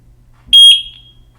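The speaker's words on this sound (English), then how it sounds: "Heard the beep." A Eufy wireless security camera gives a single short, high electronic sync beep, sharp and close, in an otherwise quiet space.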